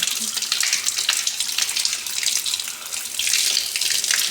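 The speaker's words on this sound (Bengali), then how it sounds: "ভালো করে এগুলো আমি ধুয়ে ফেললাম" Green tomatoes being rinsed under a running kitchen tap, a steady broadband splash of water that keeps going for the whole stretch and swells slightly toward the end, with no talking.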